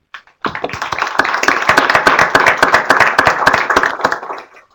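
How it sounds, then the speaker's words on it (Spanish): An audience at a medical conference bursts into loud, sustained applause, dense claps rising quickly and fading out after a few seconds, close and filling the room. "este aplauso es para vos"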